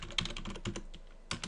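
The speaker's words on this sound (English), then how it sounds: "So I'll just type in my new password." Keys on a computer keyboard tapped in short quick bursts while a password is typed, a run of clicks followed by a brief pause and two final strokes, fairly quiet and close, with no talking.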